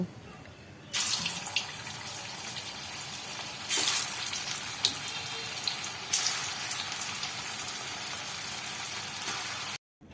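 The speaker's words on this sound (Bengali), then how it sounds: "আরও দুই ব্যাচে কোপ্তাগুলোকে ভেজে তুলে নিচ্ছি" Jackfruit kofta balls frying in oil, a steady close hiss and crackle that swells in bursts as more are added, then stops abruptly at the end.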